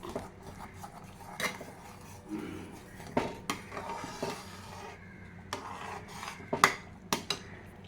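Aval kesari (sweetened flattened rice) being stirred in a pan over a medium flame, with intermittent scraping and clinking of a spoon against the metal, close and moderately loud, no talking.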